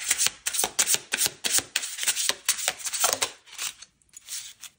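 A tarot deck is shuffled in a rapid run of crisp card riffles and flutters, loud and close, continuing for several seconds before tapering off, with no voice over it.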